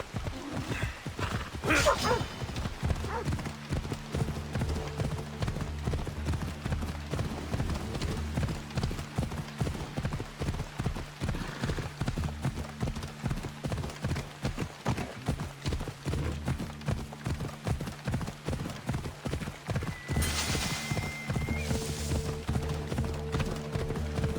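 A horse gallops in Assassin's Creed Odyssey, its rhythmic hoofbeats drumming steadily and close for the whole stretch. Occasional snorts and a brief whinny break through, along with faint game ambience.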